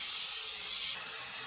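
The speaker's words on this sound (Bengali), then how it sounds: "তো এখন এই দুটোকেই ভাজবো, পনির আর মাশরুম দুটোকেই।" Paneer and mushroom fry in a pan with a loud, bright hiss of sizzling oil that drops abruptly to a softer, steady sizzle partway through.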